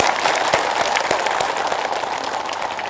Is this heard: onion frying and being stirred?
no